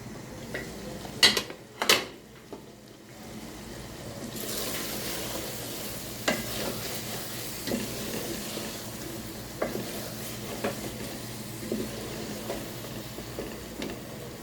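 Aloo keema with yogurt frying and being stirred in a pan, a steady sizzle with clanks of the spoon against the metal, two sharper knocks near the start, and scattered scraping strokes throughout, with no talking.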